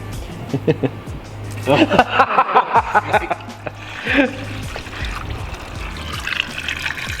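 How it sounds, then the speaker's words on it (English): Water trickling and gurgling while the cooling system of a 1980 VW Rabbit Pickup is refilled, a close, steady liquid flow with bubbly surges, heard under men's chatter and laughter. "Look at that flow of water."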